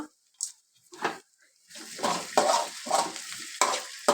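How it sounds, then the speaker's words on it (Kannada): Potato pieces frying in oil in a pan while being stirred, giving a series of scraping, sizzling bursts that grow louder and more frequent after a quiet opening, close up with no talking. "ಎಣ್ಣೆಯಲ್ಲಿ ಆಲೂಗಡ್ಡೆನ ಚೆನ್ನಾಗಿ ಕರ್ಕೊಬೇಕು ಚೆನ್ನಾಗಿ ಫ್ರೈ ಮಾಡ್ಕೊಳ್ಬೇಕು"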